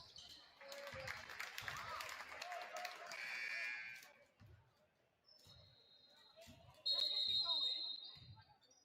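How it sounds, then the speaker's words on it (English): A buzzer sounds at a boys varsity high school basketball game, a steady high-pitched tone rising over crowd noise and squeaking, shouting court ambience. "And we got a buzzer."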